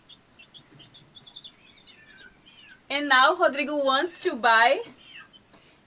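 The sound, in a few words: chicken clucking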